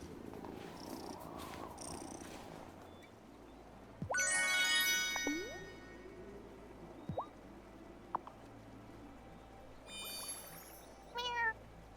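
In the farming sim game Wylde Flowers, a cat purrs in a steady low rumble beneath game ambience, with several short, bright, rising meows and faint chiming jingles scattered throughout.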